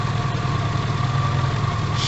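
A Tavria pickup's carburetted engine idles steadily and alone at close range, a constant low drone with a faint hiss, running just before being switched off.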